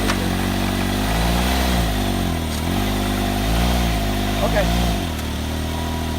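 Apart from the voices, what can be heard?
Can-Am Maverick X3 UTV engine in low gear driving forward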